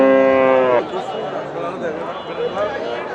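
Cattle at a busy rural cow market selling beef and sacrificial cows, with one loud, drawn-out moo up close at the start, then a crowd's chatter and livestock noise filling the rest.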